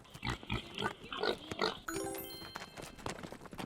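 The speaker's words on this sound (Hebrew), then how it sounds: "pig" Cartoon pig oinking and grunting in short repeated bursts over a background music bed, with a bright jingle entering partway through.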